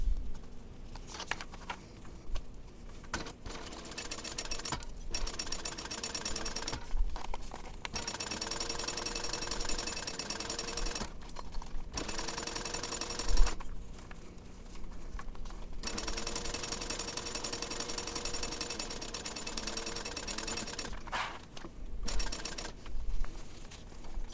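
A home sewing machine stitching fabric backpack pieces at a quarter-inch seam, steady whirring runs broken by short pauses between passes, fairly quiet and close.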